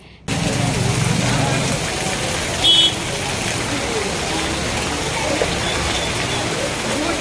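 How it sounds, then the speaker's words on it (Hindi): Heavy rain pours steadily outside Hawa Mahal in Jaipur, a dense, continuous wash of close downpour with a brief louder swell partway through. "बाहर इस समय घनघोर बारिश हो रही है"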